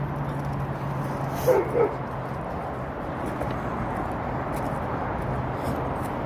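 Dog at a park gives a couple of brief, faint yips or barks in quick succession, set against steady outdoor background noise and low hum, distant and soft.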